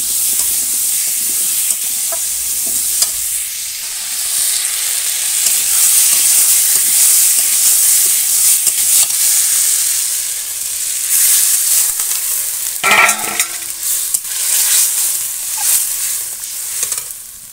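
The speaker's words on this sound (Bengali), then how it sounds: "ভেজে রাখা মাছ আর বেগুন ঝোলের মধ্যে দিয়ে দিলাম।" Fried puti fish and eggplant simmer in a curry sauce, giving a continuous soft sizzle and hiss, with a short burst of spoon-scraping stirring near the end.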